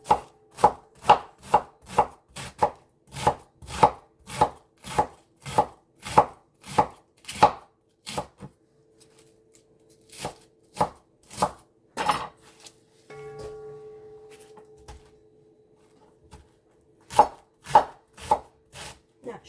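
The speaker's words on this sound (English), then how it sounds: "Not sure if cutting cabbage is soothing for some, or I guess just watching somebody cut anyway might be soothing." A knife chops through cabbage for coleslaw in steady, rapid strokes, then pauses with faint clinks and handling noise before a final burst of quick, close chops.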